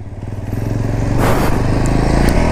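A Motorstar Cafe 400 motorcycle revs up close and pulls away, its loud engine rising from a pulsing idle to a steady, throaty drive with a rough texture.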